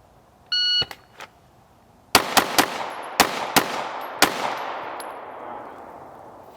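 A shot timer gives a short electronic beep, and after a pause a pistol fires six sharp shots in quick irregular succession during a 3-2-1 shooting drill, each crack close and loud with ringing decay.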